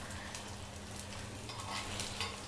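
Fasting vadas shallow-fry in a little oil while being turned, a soft continuous sizzle with faint brushing and shifting sounds, fairly quiet and close.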